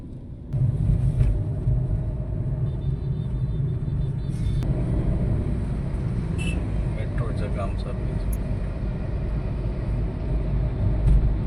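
Steady road rumble from inside a moving car in Sunday traffic on Mumbai's Western Express Highway, with people talking over it and occasional faint clicks and beeps.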